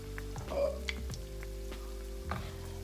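Battered Oreos deep-frying in hot oil give a steady, close crackling sizzle with scattered pops, under a constant low hum.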